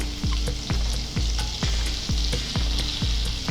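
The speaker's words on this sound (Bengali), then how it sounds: "ফোড়নে দিয়ে দিচ্ছি গোটা গরম মশলা" Whole garam masala spices crackle and sizzle in hot white oil with melted butter, a steady loud frying hiss punctuated by regular sharp pops and stirring clinks, with no talking.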